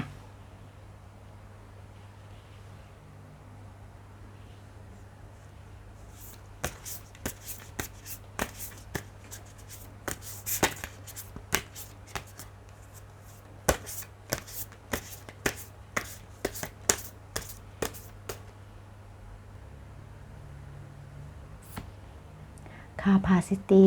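Tarot cards are shuffled and handled in a run of sharp, crisp taps and flicks over a low steady hum, clustered through the middle and quiet at the start.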